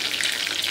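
Chicken lollipops frying in a pan, a close, bright crackle of sizzling oil in a brief, continuous burst with no speech.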